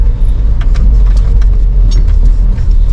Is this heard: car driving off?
yes